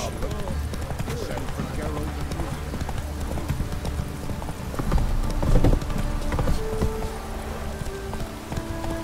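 Roach, Geralt's horse in The Witcher 3: Wild Hunt, galloping with a steady, rapid clip-clop of hooves that swells midway, accompanied by ambient game sounds and someone talking.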